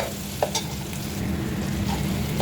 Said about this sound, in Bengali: ফার্স্টে তেলে পেঁয়াজ দিয়ে দিলাম। পেঁয়াজটা একটু লাল করে ভেজে নেব।